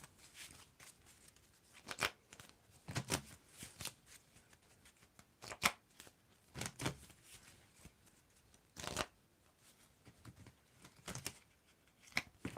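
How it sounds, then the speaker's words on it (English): Quick papery riffles of tarot cards being shuffled, coming in repeated short bursts with pauses between, close and fairly quiet. "Tell me when to stop shuffling,"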